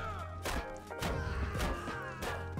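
Several heavy thuds from a shovel striking a civilian in Far Cry 5 land about every half second, sitting inside dense game music and background noise.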